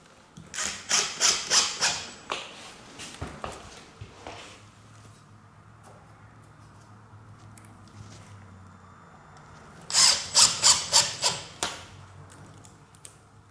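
Screws driven into a laminate flooring track with a power drill, two bursts of rapid ratcheting clicks early and another burst near the end, close and loud against a quiet room.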